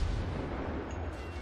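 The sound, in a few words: warship broadside gunfire in World of Warships video game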